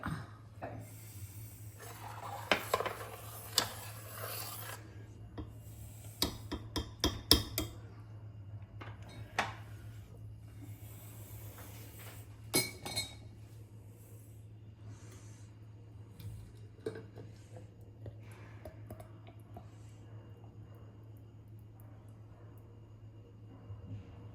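Hot banana jam poured into a glass bottle with a steel spoon inside, with scattered clinks and clatters of metal on glass over low steady hum, busier at first and then quieter.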